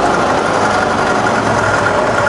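A rebuilt Bridgeport milling machine spindle spins at its top speed of 3000 RPM, giving off a steady, even mechanical whir with a faint vibration that holds constant throughout, with no voices.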